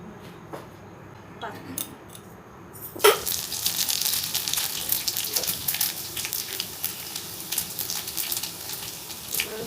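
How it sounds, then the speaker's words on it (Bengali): Panch phoron whole spices hit hot oil in a pan for a sweet-and-spicy raw mango pickle, starting with a few faint clicks, then a sudden burst of crackling sizzle that keeps spitting and popping close by. "পাঁচ ফোড়নটা দিয়ে দেবো তেলটা গরম হলে"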